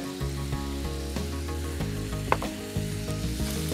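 Chicken seasoned with white pepper, salt and ginger stir-frying in a pan, a steady close sizzle with occasional scrapes and clinks of a utensil, no talking.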